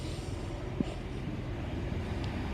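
A train rumbles into Bristol Parkway station at a distance, low and steady, with faint squeals and clanks over the continuous drone.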